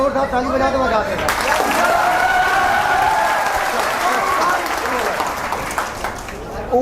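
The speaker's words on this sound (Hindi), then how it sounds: "बेटा एक बार जोरदार ताली बजा के बजा देगा।" Students in a classroom clap loudly together in a sustained burst of applause with some chatter and laughter mixed in.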